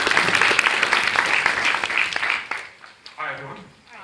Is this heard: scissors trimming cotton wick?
no